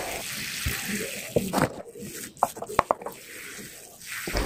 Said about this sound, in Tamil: அதுக்கு மேலே நல்லா தண்ணி வந்து ஊற்றிக்கோங்க